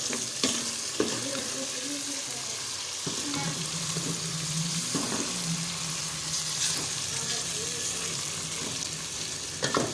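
Radish pieces browning in a pan for kadhi give a quiet, continuous sizzle and crackle, with occasional stirring scrapes. Faint background noise runs underneath.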